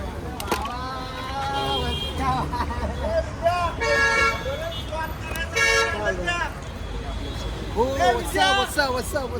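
Road traffic at a standstill, with car horns tooting repeatedly in short and longer blasts, near and far, over engine hum while people talk nearby.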